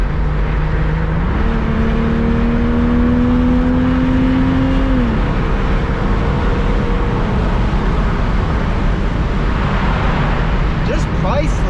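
A 2002 Porsche 911 996 driving, a continuous engine drone with a tone that climbs and then drops, steady road and interior noise throughout, close inside the car.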